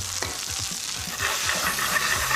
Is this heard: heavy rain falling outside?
no